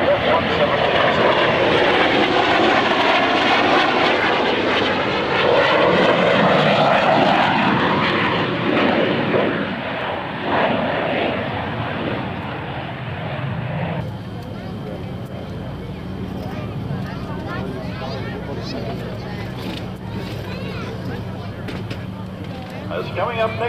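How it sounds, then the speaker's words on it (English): F-117 Nighthawk jet making a final pass at an airshow, a loud roaring engine rush that swells and sweeps past, then fades into a lower rumble while an announcer talks over the PA. "For his last pass today, passing by in photo review, Major Larry Bouchard in the F-117."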